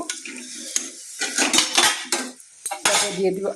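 Chopped ginger, garlic and onion tumble into a pan of spiced cauliflower, with clattering metal utensil scrapes and knocks against the pan over a soft sizzle, in bursts separated by brief pauses.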